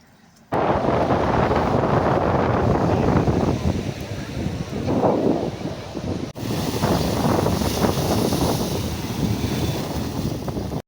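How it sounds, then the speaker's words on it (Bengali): Sea waves roar at Digha beach with heavy wind buffeting the microphone, a loud, continuous rumbling wash that cuts out briefly midway and then resumes. "সমুদ্রের এত গর্জন, এত আওয়াজ"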